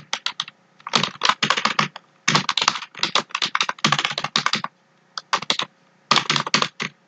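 Bursts of fast, close clicking on a computer keyboard as code is typed, coming in several quick runs separated by short pauses, with no talking.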